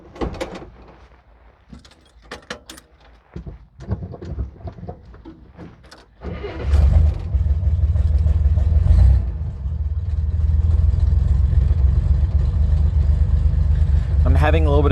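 A 1964 Corvair Monza Spyder turbo convertible is started from the driver's seat, with clunks and handling noises before the engine catches and settles into a loud, steady low idle; the carburetor is running rich.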